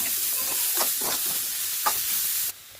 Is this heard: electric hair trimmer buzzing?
no